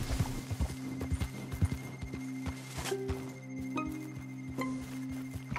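Horse hooves clip-clopping in Red Dead Redemption 2, an uneven series of close hoof strikes with faint jingling tack and a low ambient hum.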